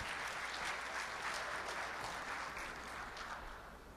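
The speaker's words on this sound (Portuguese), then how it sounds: "Uma salva de palmas para Marco Antônio" A conference audience in Brazil applauds warmly, steady clapping from many hands that holds for a few seconds before slowly fading.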